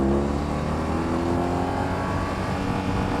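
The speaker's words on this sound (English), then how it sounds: "I wonder what the rev cut is on this." A 2022 BMW R18 motorcycle engine runs loud and close, a deep continuous rumble that holds steady through the whole stretch with no talking.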